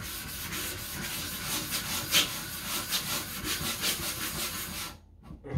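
A sharpening stone is rubbed flat against an Atoma 140 diamond plate, giving a close, steady rhythmic gritty scraping of back-and-forth strokes that stops abruptly near the end.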